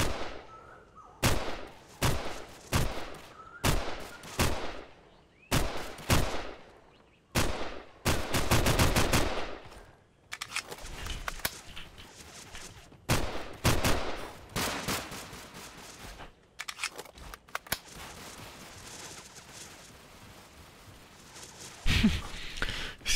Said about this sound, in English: See how they're firing?